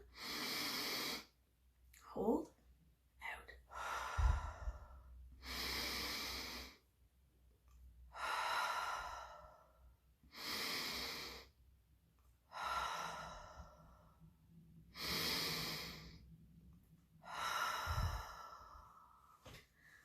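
Slow, deep breaths in and out during a five-finger breathing exercise for children, led by a teacher: about eight long, airy inhales and exhales in a steady rhythm, close and soft, with no talk.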